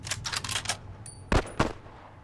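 Gunfire in The Last of Us comes as a quick rattling burst of shots followed by two sharper, louder reports, with a faint metallic ring between them.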